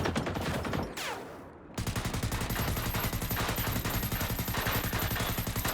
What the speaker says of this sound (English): The AI-76 does huge DPS to anything standing in its way, and it also has a big mag so you can keep firing for a while.